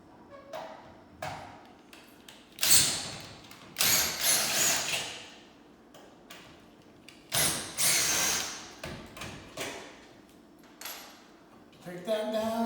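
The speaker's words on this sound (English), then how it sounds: "Take our handy drill here." A cordless power drill whirs in several short bursts, backing screws out of a ceiling AC vent register, each buzz loud and close, with speech in between.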